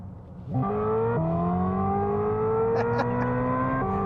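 A synthetic electric-car drive tone with steady stacked pitches that slide upward and step between notes, loud and continuous, with a few faint clicks near the end.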